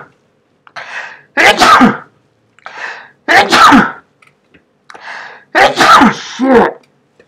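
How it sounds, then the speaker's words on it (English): A person sneezes repeatedly, several sharp bursts with breathy build-ups and pauses between them, close and loud. "I gotta sneeze"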